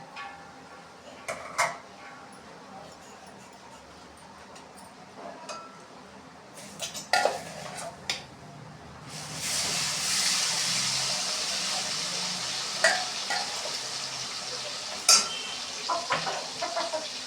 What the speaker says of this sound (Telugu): ఇప్పుడు దీంట్లో అల్లం వెల్లుల్లి పేస్ట్ వేసుకుందాం ఈ నూనెలోనే